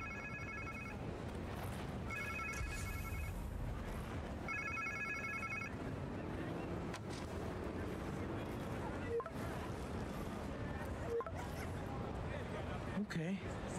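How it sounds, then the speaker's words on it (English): A phone rings in the Spider-Man 2 video game on PS5, its chiming bursts repeating three times near the start over dense game ambience and a speaking voice. "Sounds like somebody's phone."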